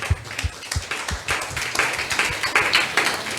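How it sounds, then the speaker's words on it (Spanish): A church congregation gives a round of applause to Jesus. It opens with a few scattered, separate claps that build into denser, steady clapping close by. "Un fuerte aplauso a Jesús"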